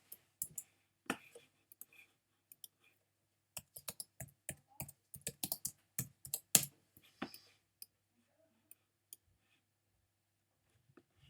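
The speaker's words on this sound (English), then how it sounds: "Oh, clicking." Mouse clicking while playing Roblox Miners Haven, a dry, close run of rapid clicks in uneven clusters that thin out into sparse single clicks, with no one talking.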